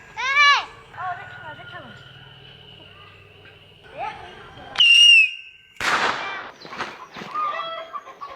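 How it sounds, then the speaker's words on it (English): A few sharp firecracker pops and crackling bursts ring out among clucking chickens on Chinese New Year's Eve in Yunnan, China, with a whistling tone and people talking in the background. "There's still firecrackers going off."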